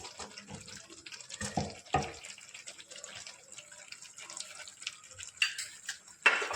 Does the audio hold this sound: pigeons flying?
no